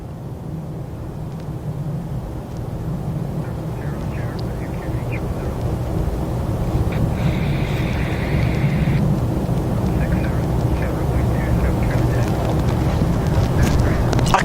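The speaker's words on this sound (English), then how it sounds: "Is it that little aircraft that little jet that came in?" A small jet at East Midlands Airport, its engine roar steady and rising toward the end over a constant broadband rumble, with a brief higher whine partway through.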